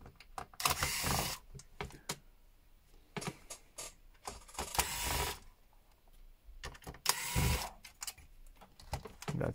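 Screws being unscrewed from a PlayStation 2 Slim console case during a laser unit replacement, heard as close, repeated bursts of scraping, clicking and rattling with brief pauses between them, with no talking.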